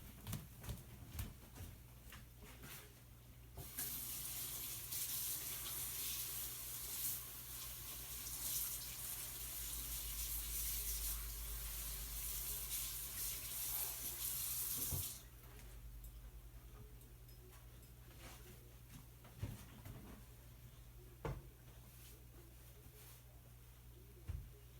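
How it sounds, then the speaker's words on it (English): Running tap water rinses acrylic-painted Ebru marbled paper, a steady hissing stream that starts after a few quiet seconds, flows for about eleven seconds, then stops, leaving faint clicks and handling noises. "and now I'll go rinse it."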